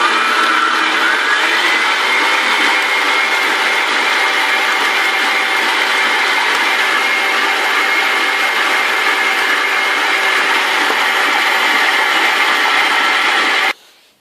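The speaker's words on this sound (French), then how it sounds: "Et maintenant juste un petit barattage pour enlever l'excédent d'eau" A motorized butter churn runs while working excess water out of butter, giving a loud, steady mechanical whir with a constant hum for about fourteen seconds before it stops abruptly.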